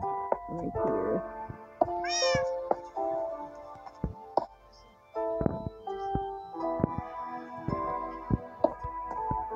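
A cat in the Minecraft video game gives a few short, rising meows among sharp game clicks and taps, clear and fairly close, with quiet gaps between the sounds.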